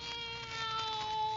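A cat meows indoors, a faint drawn-out cry with steady tonal harmonics held over quiet room background, with no talk.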